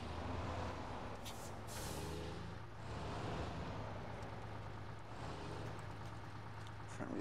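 A truck engine in the video game SnowRunner, an RNG US-K23, rumbles steadily while it revs and strains, with a couple of brief hissing bursts near the start, and no voices.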